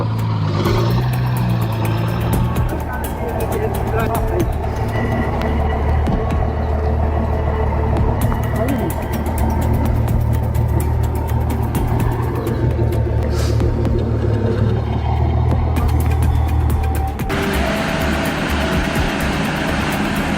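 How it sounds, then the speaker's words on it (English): A massive heavy truck crossing a makeshift bridge, its engine a loud, steady low rumble that holds throughout, with heavy mechanical noise and no talk. "Crossing that makeshift bridge with a massive truck that's next-level daring."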